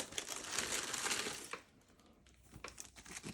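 Tissue paper crinkling and rustling as it is pulled away from sneakers inside an Air Jordan 12 Ma Maniére shoebox, with dense close crackle for a second and a half, then quieter scattered crinkles.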